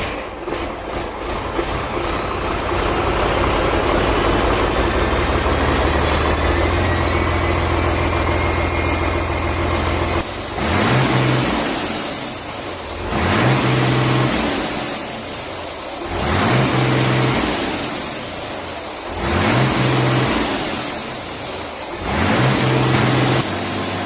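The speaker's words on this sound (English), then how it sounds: "a 1991 air-cooled V12, reaches full throttle after a long dormancy at a machinery event" A 1991 air-cooled V12 engine drones steadily at first, then revs hard to full throttle in repeated surges, each climbing loudly and dropping back, five or six times, at a machinery event, after long dormancy, with no talking.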